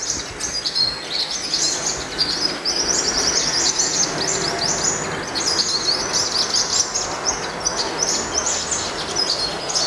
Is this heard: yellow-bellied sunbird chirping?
yes